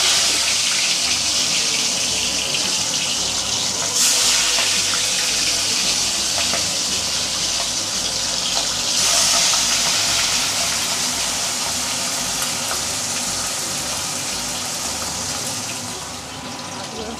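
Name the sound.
fish frying in hot oil for Bengali fish curry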